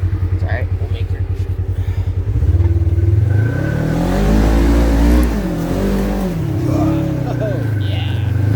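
An ATV on Traxion Glacius studdable winter tires pushes through deep soft snow, its engine revving hard and loud with a rising, labouring growl that shifts pitch as it digs forward.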